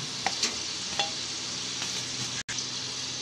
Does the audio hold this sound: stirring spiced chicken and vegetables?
yes